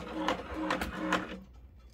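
A 10-needle multi-needle embroidery machine shifting its needle head to needle one makes a close, short mechanical whir with a few rhythmic clicks, then falls quiet.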